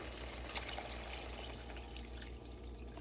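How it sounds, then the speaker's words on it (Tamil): Water pours steadily into a pot of mutton kulambu (Tamil mutton curry), a soft, continuous splashing rush, close by and fairly quiet. "நம்ம தேவையான அளவு தண்ணி ஊற்றிக்கலாம்"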